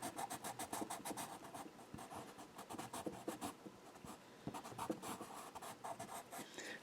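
A pastel pencil scratches across paper while drawing a raccoon, making quick, rhythmic strokes that are close and clear, with no voices over it.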